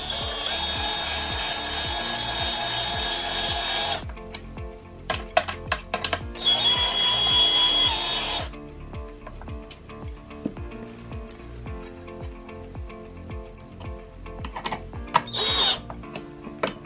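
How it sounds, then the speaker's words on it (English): A power drill drives bolts into a KTM EXC engine bash guard, with two long loud whirring runs, short bursts, ratcheting clicks and metallic clatter between them, close up, with no talking. "Just going to drill the bolts in."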